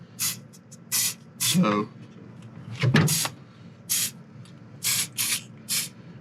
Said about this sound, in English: I've been using Blaster, which is a dry graphite lubricant, and you're supposed to lube this up.